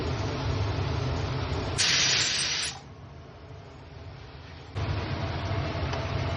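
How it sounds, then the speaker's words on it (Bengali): Ground spice paste of onion, tomato and ginger hitting a hot pan, a loud steady sizzle that surges briefly near the start, then settles and swells again, close up with no speech. "মশলা দিচ্ছি"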